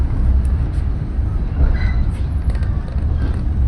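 A Bangunkarta passenger train pulls into a station platform on a track shared with commuter trains, giving a deep, steady rumble close by with faint higher squeals and hiss over the top.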